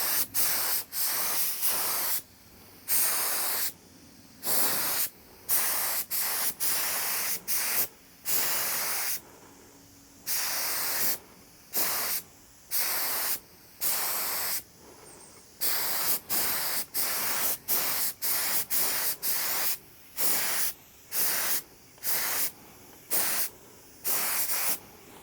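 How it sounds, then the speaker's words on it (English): Burnt bronze Cerakote coating is sprayed onto AK rifle parts in many short, loud hissing bursts, separated by brief pauses and repeating steadily throughout. "So I have my burnt bronze Cerakote in here. Just going to spray this."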